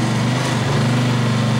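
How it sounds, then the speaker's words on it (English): A Honda EX650 generator runs loud and close with a steady, buzzing engine drone, its pitch wavering slightly as it hunts, over a short stretch with no talk. "Straight away, you can probably hear it pumping up and down a little bit."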